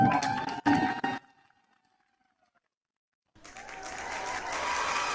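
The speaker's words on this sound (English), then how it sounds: "Let's give a round of applause." Audience applause at a high school athletics press conference introducing a new head football coach, a burst of clapping that cuts off into near silence, then swells back up loud and sustained.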